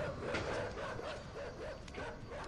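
Dogs barking in the dark side-scrolling video game Inside, a steady murmur of yips and bow-wows that runs without pause at moderate volume under game ambience.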